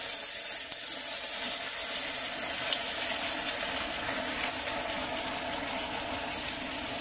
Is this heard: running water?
yes